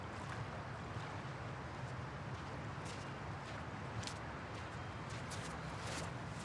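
Waves wash continuously along a beach near the water's edge, a soft steady surf hiss with light wind buffeting, faint and distant-sounding throughout.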